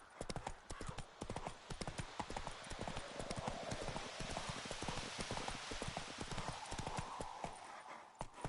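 The horse Roach gallops in The Witcher 3, a steady rapid clip-clop of hooves running continuously throughout, fairly close and even.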